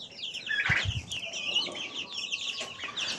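A rooster clucks and calls close by in a farmyard, with a quick burst of clucks and scratchy bird sounds over low background noise.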